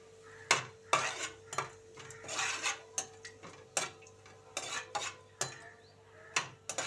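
Whole spices — bay leaf, cloves and cardamom — fry in oil for a chicken fry dish, a steady soft sizzle broken by repeated sharp clinks and scrapes of a spoon stirring against the pan.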